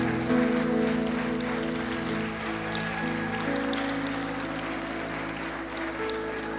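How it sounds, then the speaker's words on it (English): A church congregation claps in praise, a sustained wash of clapping over a steady background of organ or keyboard chords, moderately loud and continuous. "why don't we clap a mighty offering of praise and shout of victory today"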